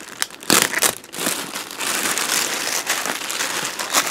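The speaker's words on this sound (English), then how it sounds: "So house insulation like R13 or something, or R11, that's been put in plastic" Plastic wrapping, taped around R11 or R13 house insulation, crinkles close and loud, with a sharp burst early on and then steady rustling handling throughout.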